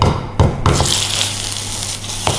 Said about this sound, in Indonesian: Oke, langsung aja ya, minyak panas. Langsung aja kita goreng.